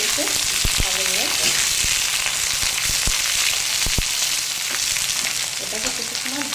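Black cumin seeds sizzling in hot oil in a pan, a steady close crackle with scattered sharp pops and occasional clinks of a utensil.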